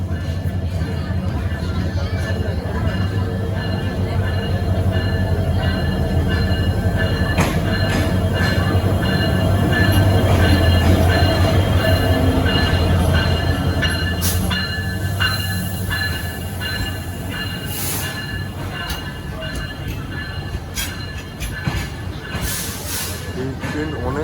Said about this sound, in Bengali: এখন চৌমনি থেকে আমরা ট্রেনে উঠবো উঠে আমরা আখাউড়া পর্যন্ত এই ট্রেনে করে সফর করব